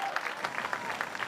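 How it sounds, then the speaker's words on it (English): An audience claps steadily through a charity telethon home auction, a dense patter of many hands at moderate loudness without pause. "Give him a round of applause."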